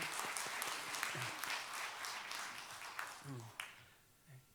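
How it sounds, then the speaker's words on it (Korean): A church congregation applauds during a Sunday worship service, a steady wash of many hands clapping that tapers off toward the end, with a few voices speaking briefly over it. "박수하겠습니다"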